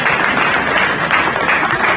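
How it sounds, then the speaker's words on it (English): An audience at a Nigerian political gathering applauds a guest, the former chairman of the All Progressive Congress, with sustained, dense clapping from a large crowd that stays loud and even throughout. "Please give him a round of applause."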